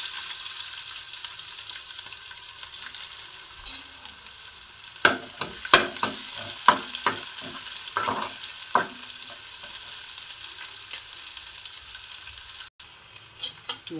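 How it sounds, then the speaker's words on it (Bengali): Chopped onion frying in hot oil in a wok, a steady close sizzle with a burst of sharp crackles and pops in the middle and a few clinks near the end. "কড়াতে তেল দিয়ে দিয়েছি। আমি পেঁয়াজ কুচি দিয়ে দিচ্ছি।"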